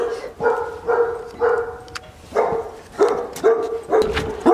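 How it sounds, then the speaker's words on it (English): Several pit bull puppies bark in short bursts, repeated about six times at a steady pace, close by with faint rustling underneath. "Puppies."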